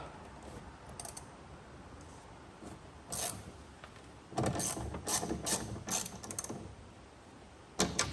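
A window regulator mechanism from a VW Golf 4 is loosened, giving close mechanical ratcheting clicks and metallic rattles, sparse at first and then in a denser burst, over quiet background.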